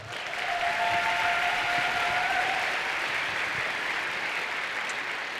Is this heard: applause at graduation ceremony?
yes